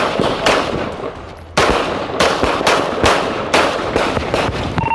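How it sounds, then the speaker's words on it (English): Gunfire during a police chase on a street, heard as a rapid series of loud, sharp bangs, some clustered in quick bursts, over steady rumbling background noise with no talk. "2-1, shots fired."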